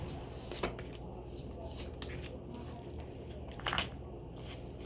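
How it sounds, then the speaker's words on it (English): Tarot cards being shuffled, a soft continuous papery riffling and rustle close by, with a couple of sharper snaps and flicks as the deck is handled. "So I'm going to pull 3 cards."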